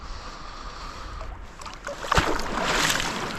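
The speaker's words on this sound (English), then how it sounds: "Speak of the devil, is one of them bloody waves now." Shore waves wash in while bass fishing, a rushing surge of water building and splashing close by after a calmer stretch, steady broadband wash rising toward the end.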